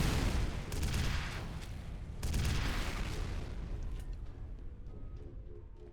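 Missile explosions in the shooter game F.E.A.R. hit in two heavy booming bursts, loud and close, each trailing into a rumbling decay that fades out toward the end.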